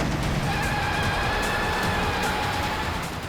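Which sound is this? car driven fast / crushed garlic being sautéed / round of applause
car driven fast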